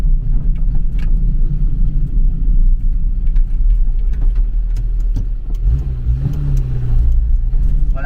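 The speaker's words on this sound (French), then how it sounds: "Là au moins elle a démarré sans que je monte dans les tours" Citroën C15E car engine starting and pulling away, a loud steady low rumble that swells as the engine revs and the car moves off near the end.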